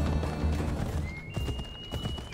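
Horse hooves clip-clop in a steady trotting rhythm in Assassin's Creed Odyssey, close and fairly loud against a busy game soundscape.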